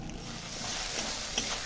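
Spice paste with turmeric and salt cooks in a pan, producing a steady, close sizzle and hiss with faint scraping from stirring, no voices heard.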